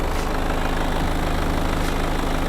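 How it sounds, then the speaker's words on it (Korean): The diesel engine of a BMW 520d idles steadily up close, a constant low chugging rumble with an even rhythm and no other sounds. "엔진 소리 일정하네요"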